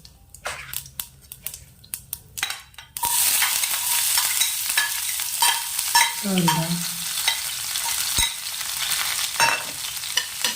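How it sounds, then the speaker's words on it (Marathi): Tempering of mustard seeds, cumin, coriander and chilli powder in hot oil: a few sharp pops and clicks, then a sudden loud, continuous close-up sizzle with occasional stirring scrapes. "तेल घालून आता मी ही फोडणी करते"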